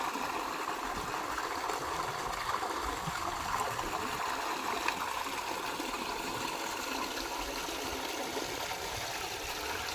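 Steady, rushing water noise runs continuously throughout, like a strong flow gushing out nearby, with no pauses or voices.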